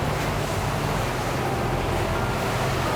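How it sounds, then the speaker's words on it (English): A SACS Rebel 55 open motor yacht drives its bow through open-sea waves that grow bigger away from the coast. A steady, loud rushing wash of water and wind fills the clip without a break. "I am cleaving the waves, which as we leave the coast of the open sea get bigger and bigger"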